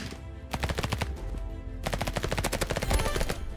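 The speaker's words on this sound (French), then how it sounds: "je mets quand même une petite balle à l'Uzi" Uzi fire in the Rivals video game, with rapid automatic bursts of gunshots, a long burst followed by a brief pause and then another sustained burst, loud and continuous.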